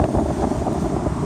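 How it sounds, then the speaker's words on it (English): Wind buffets the microphone in a front yard with young fruit trees in a continuous low, rough rumble, with no other clear sounds. "Very windy."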